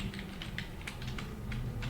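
Typing on a computer keyboard while writing a C++ input and output program, a steady run of close, crisp key clicks with no voice present.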